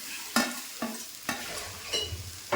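Onions with crushed ginger and garlic sauté over a medium flame, a soft sizzle punctuated by four or five distinct, evenly spaced clacks of a spoon stirring the pan, heard up close.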